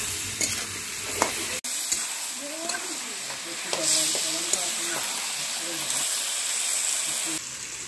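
Onions and tomatoes frying in a pan with a steady close sizzle, broken by clattering stirs of a spatula and short scrapes against the metal. A faint voice sounds in the background.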